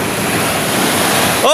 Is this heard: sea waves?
yes